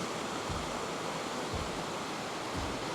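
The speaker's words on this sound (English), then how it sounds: "That's one of the waterfalls." Waterfall on the creek at Murray Falls in Girramay National Park, a soft, steady rush of falling water that stays even and fairly faint throughout.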